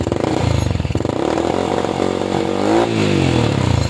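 A Honda XRM 110 motorcycle with an electrical cut-out fault revs close up, a loud buzzing single-cylinder engine that climbs in pitch, dips, and rises again.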